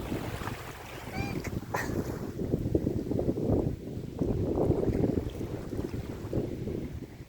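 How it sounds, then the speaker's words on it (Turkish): Sea waves wash against a shore, a steady low rumbling surge with slow swells and wind buffeting the microphone, heard fairly close with no talk over it. "Çok güzel ya dalgalar."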